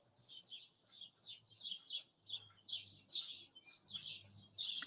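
Small birds chirp and tweet in quick repeated bursts, fairly close and clear against a quiet outdoor background, with no voices.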